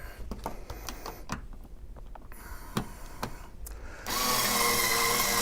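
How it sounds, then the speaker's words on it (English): A small cordless screwdriver runs with a steady whir, loud and close, after a stretch of scattered clicks and handling knocks; no talking. "I like these little cordless screwdrivers because they're not real powerful, but they seem to get the job done."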